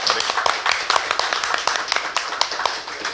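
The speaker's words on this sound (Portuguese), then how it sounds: "Uma salva de palmas para a Irene Paiva." Audience applause at Bardallos bar, a dense run of hand claps at close range that continues steadily throughout with no voices over it.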